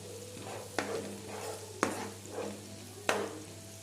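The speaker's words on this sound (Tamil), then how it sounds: "நல்லா சிம்மில் வச்சு வெங்காயம் கோல்டன் கலர் வர வரைக்கும் வறுத்துக்கலாம்" Onions, garlic and spice powder fry in sesame oil in a pan with a steady low sizzle, broken by three sharp clacks of a spoon or spatula stirring against the pan at close range.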